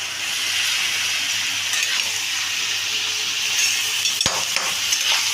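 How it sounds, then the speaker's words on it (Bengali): Bottle gourd and shrimp with cumin powder, sugar and spices stir-fry in a pan, giving a steady close sizzle with scraping stirs and a sharp metallic clink near the end, no voices. "দিয়ে আমি এটাকে ভালো করে কষিয়ে নিচ্ছি মশলার সাথে।"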